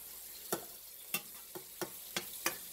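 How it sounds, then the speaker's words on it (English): Onions cooking in melted butter in a pan, a faint low sizzle punctuated by about six soft stirring knocks spaced irregularly, no voices. "you turn the heat up, melt that butter, turn it back down so that butter doesn't get dark on you"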